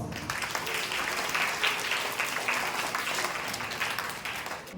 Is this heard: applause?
yes